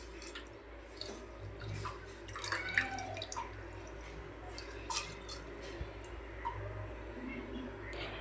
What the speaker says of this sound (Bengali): এরপরে আমি চালগুলোকে ধুয়ে ফেলে দেব।